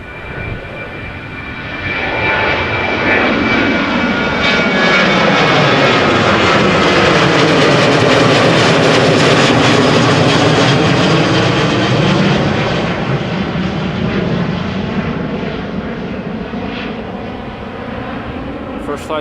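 A KLM Boeing 737-800 jet airliner, 23 years old, at Amsterdam Schiphol Airport roars steadily and loudly as it passes close by, the engine noise swelling and sweeping through a Doppler-like shift before fading slightly.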